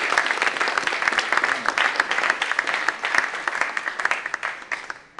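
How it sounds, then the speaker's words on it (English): Audience applause at a webcast event honoring a reverend, steady dense clapping from a crowd lasting several seconds, tapering off at the end, with no talk over it. "A warm round of applause for Reverend Ronald Braxton."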